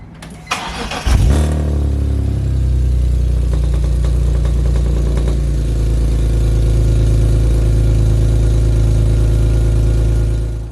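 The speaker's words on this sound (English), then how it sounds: "I'm gonna start it up and check to see if there's any exhaust leaks" BMW E46 M3 fitted with a newly installed Scorpion aftermarket exhaust cranks with a brief starter whir, fires up loudly, then settles into a deep, steady idle close by with no voices.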